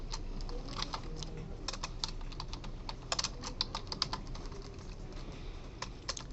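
Steady, fairly quiet typing on a computer keyboard, a dense run of irregular key clicks lasting several seconds with no talking.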